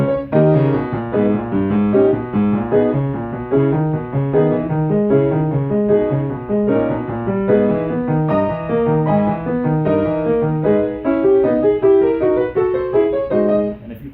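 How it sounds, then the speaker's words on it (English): Left-hand part of a Chopin étude on solo piano: dense, continuous lower-register figures and chords rolling evenly, close and full, with no voices. "here comes the left hand."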